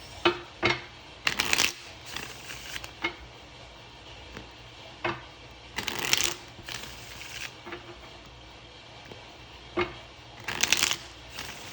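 Oracle cards being shuffled by hand, close and crisp, in repeated bursts of riffling and sliding with short pauses between them, no voices.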